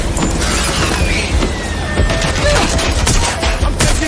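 Gunfire in the video game Watch Dogs Legion: loud, close, continuous rapid shots with mechanical clatter, forming a dense fusillade throughout.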